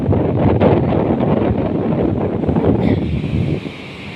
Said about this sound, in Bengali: পুরো ঢেউ উঠতেছে, বাতাস থাকলেও ঢেউ উঠে